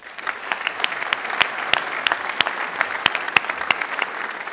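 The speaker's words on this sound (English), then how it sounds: "Can you please give them a round of applause?" A school audience claps for student ensembles and conductors at a secondary school awards celebration, with moderate applause and distinct, sharp individual claps ringing out over a soft continuous patter.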